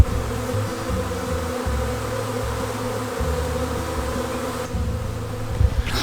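Honeybees drone in a dense, continuous buzz at a hive on a day of bad weather, steady and close throughout, with no voices.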